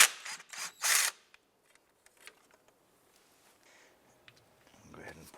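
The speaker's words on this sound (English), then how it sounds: "remove the 2 bolts holding the fuel rail. It's 10mm." Ratchet working 10mm fuel rail bolts loose on a 2011-2019 Ford Fiesta engine, a few loud bursts of clicking up front, then quiet with faint scattered taps and a brief rustle at the end.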